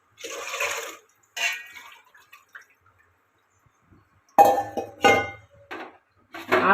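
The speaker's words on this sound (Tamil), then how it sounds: "டம்ளர் டு 4 டம்ளர் தண்ணி ஊற்றுவோம்." Water is poured from a tumbler into a cooking pot for sweet pongal in short separate bursts with brief clinks and splashes, the pours close by and separated by near silence.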